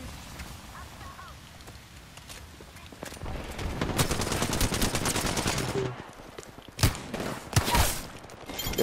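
Gunfire in PUBG, with bursts of rapid shots and a few sharp, louder cracks near the end over steady game background noise.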